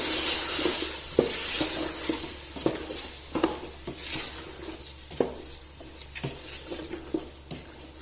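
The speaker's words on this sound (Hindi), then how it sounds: "दही को अच्छी तरह से बीट करना है" Yogurt is beaten in a bowl with a utensil, giving soft irregular taps and wet stirring clicks at close range, fairly quiet and without talk.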